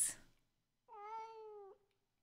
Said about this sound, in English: Sounded like a cat.